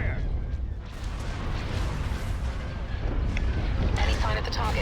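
Cannon fire roars through a space battle in a Star Wars Empire at War mod, a dense continuous barrage of booms and blasts filling the whole stretch, loud and unbroken.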